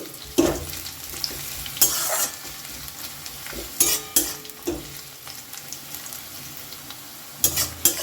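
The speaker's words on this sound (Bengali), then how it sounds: "পেঁয়াজটা একটু ভালো করে ভেজে নিচ্ছি" Chopped onions fry in a pan for a Bengali masoor dal chorchori, a steady low sizzle broken by sharp scraping strokes of a spatula stirring them at irregular intervals, close and fairly loud with no talking.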